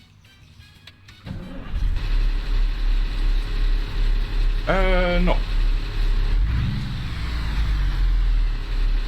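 Truck engine idling at a high, steady rev in a car setting, with a brief whining electric motor sound midway and a low rumble swelling near the end; loud and close throughout.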